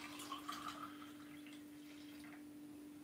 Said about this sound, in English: We're going to pour it into the glass.